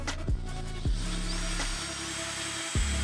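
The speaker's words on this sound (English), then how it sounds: "Drill a pilot hole, then use a 5/16 drill bit to make your cut." Power drill boring a pilot hole with a 5/16 bit while fitting a backup camera cleaner to a Ram TRX truck, a whining motor with several sharp bursts as the trigger is squeezed and released, close and loud with no talk.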